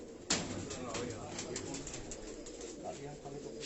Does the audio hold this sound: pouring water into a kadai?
no